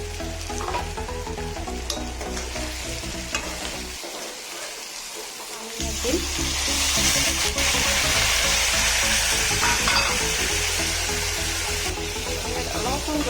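Pieces of fish sizzle loudly in a hot pan with potatoes for a spinach and fish curry, a steady crackling fry broken by a brief quiet spell, then rising again as the pieces are stirred.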